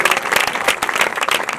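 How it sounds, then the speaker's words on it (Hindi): Loud, dense applause from a church congregation during a pastor's service, many hands clapping in rapid overlapping bursts for a short stretch. "जोर से ताली बजाएं सबके।"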